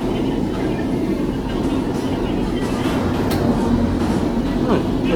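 A Hoboken Local train rolls into Teterboro station, its steady low rumble filling the scene continuously, close and loud, with faint squeals and clatter on top and voices talking under it.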